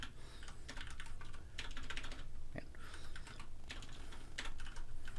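Rapid clicking of keys on a computer keyboard, bursts of typing with brief pauses, close and fairly quiet.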